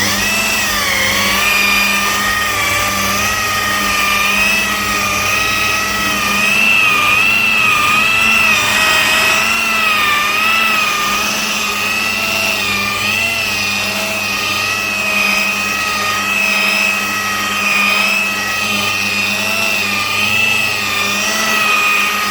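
A machine polisher fitted with a polishing mop working on the paintwork of a Lotus Excel SE, a loud, continuous motor whine close by whose pitch wavers slightly as pressure shifts, with no talking.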